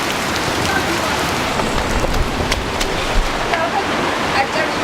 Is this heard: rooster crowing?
no